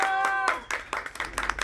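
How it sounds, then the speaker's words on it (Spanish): Children and guests at a clown show party clap after a loud call for applause, starting under a held cheer and continuing as a scattered, uneven patter of hands. "¡Fuerte el aplauso!"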